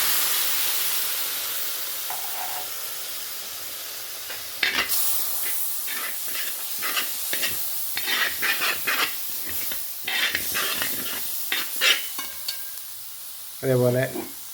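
Kokum tamarind water poured into a hot frying pan for a fish and ash gourd curry, bursting into loud sizzling with bursts of stirring and scraping, no talk.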